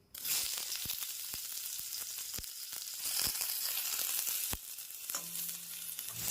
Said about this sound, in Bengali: শুকনো লঙ্কাটা কয়েক সেকেন্ড একটু ভেজে নেব